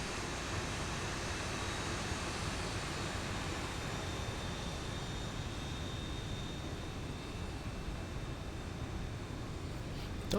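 A Zibo Boeing 737 taxiing in X-Plane 11 gives a steady, even engine drone with a broad hiss and no talk, unchanging throughout.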